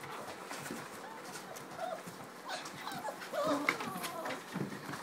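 Six- to seven-week-old Labrador puppies whimpering and playing, with soft high whines and yips scattered through a quiet indoor scene, faint and close.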